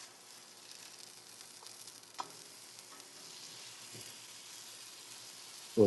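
A burger patty frying on a hot griddle gives a soft, continuous sizzle, fairly quiet and steady, with a couple of faint clicks partway through and a louder knock right at the end.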